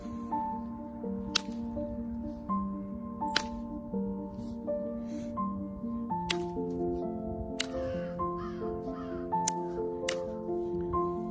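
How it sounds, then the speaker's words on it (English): Crows caw repeatedly in the distance at an outdoor camping spot during flint hunting, with sharp clicks and taps of digging in the foreground and a steady background hum. "It's crows, man."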